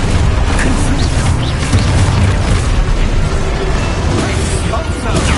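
A Confringo fire spell bursts in Hogwarts Legacy, a loud booming explosion with rumbling low end and crackling debris, sustained and dense throughout.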